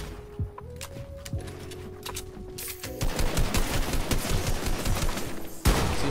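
Sniper rifle shots in a video game, two sharp cracks ringing out in the latter half over a dense burst of game gunfire and background clatter, fairly loud and close.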